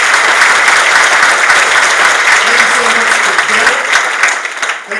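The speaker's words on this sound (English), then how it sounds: "Please give a round of applause to Jackson Life" An awards ceremony crowd breaks into loud, dense applause that holds steady, then thins and fades in the final second.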